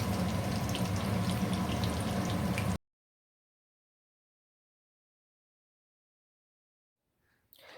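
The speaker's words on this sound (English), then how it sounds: "You have to add all the cheese into the oil." Cheese pieces in batter frying in hot oil for cheese chilli: a loud, dense, steady sizzle for nearly three seconds that cuts off abruptly into silence, followed by a faint brief noise at the end.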